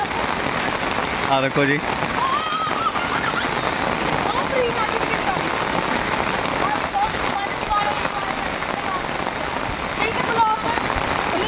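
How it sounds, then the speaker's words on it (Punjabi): Heavy rain pours in a dense, steady hiss across a residential colony in Ropar, loud and close, while people's voices speak briefly over it. "ਅੱਜ ਬਹੁਤ ਦਿਨਾਂ ਬਾਅਦ ਬਾਰਿਸ਼ ਹੋਈ ਹੈ"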